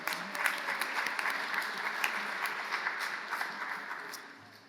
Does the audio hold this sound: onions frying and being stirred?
no